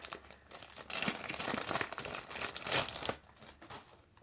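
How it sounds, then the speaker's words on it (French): Continuous close crinkling of a plastic Ziploc bag holding Quay Australia sunglasses, steady rustling for about three seconds before fading to a few lighter crackles. "Ensuite, ça vient dans un sac Ziploc."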